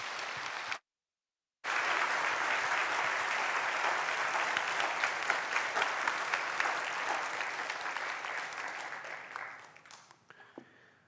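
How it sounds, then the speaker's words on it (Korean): Sustained applause from a large church congregation, loud and dense, gradually thinning and fading out near the end after a brief silent gap early on. "박수로 환영하도록 하겠습니다."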